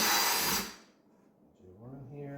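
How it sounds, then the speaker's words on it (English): A power drill with a bit just under half an inch bores holes in a plastic bucket, a loud whining burst that stops abruptly, followed by someone speaking. "But what we want to do first is drill some holes in here."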